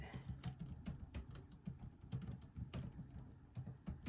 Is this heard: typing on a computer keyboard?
yes